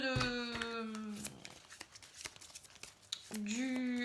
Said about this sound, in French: Alors, je vais tirer une carte